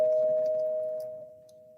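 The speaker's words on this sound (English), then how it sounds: "That was a bell sound." A single bell strikes near and loud, then rings on as one steady pure tone that slowly fades, with faint background murmur.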